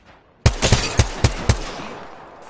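Gunfire in Apex Legends: a sudden sharp burst of about six loud shots in quick, slightly uneven succession, each cracking out then dying into a trailing echo, with quieter ambience before and after.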